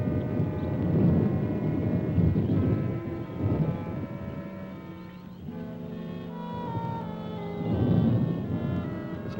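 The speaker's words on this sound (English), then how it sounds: "Just thunder." Rolling thunder rumbles low and continuous through a cold, wild setting, with a heavier swell near the start and another toward the end, steady and fairly loud throughout.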